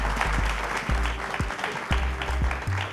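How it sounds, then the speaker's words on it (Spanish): Audience applause at a music industry forum in Medellín, a brief burst of clapping over a booming low musical beat with thumping bass hits. "les pido un aplauso para ellos"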